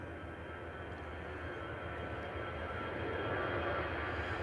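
An EasyJet Airbus A320 departing Liverpool John Lennon Airport bound for Amsterdam, its jet engines giving a steady, fairly distant broadband roar that builds slightly toward the end, with no voices.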